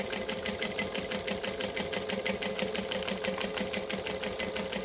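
A sewing machine top-stitches vinyl in an even, rapid mechanical whir with a steady pulsing needle rhythm, close and constant throughout, with no one talking.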